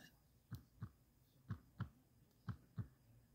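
A heartbeat sound built into a toy dinosaur, picked up by a doppler, beats in soft low double thumps, three pairs evenly spaced, faint and alone.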